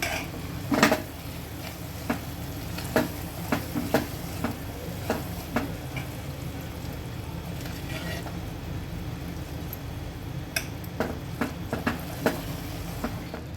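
Ingredients are stirred into a spice tempering in a pressure cooker for a Malvani-style whole masoor dal, giving a low sizzle under scattered metallic clinks and scrapes of a utensil against the pot.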